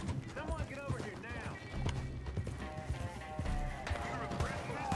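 Horse hooves clip-clopping in Red Dead Redemption 2, a run of close, rhythmic hoof thuds mixed with game sounds and a brief whinny while players talk over them.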